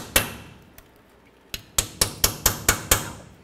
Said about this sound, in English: You can use a rubber mallet if you're worried about it. Just go over these bolts and tap it on there.